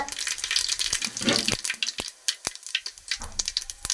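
Mustard and cumin seeds fry in hot oil in a kadai, a close, bright crackling sizzle with quick popping bursts and a few sharp louder pops in between.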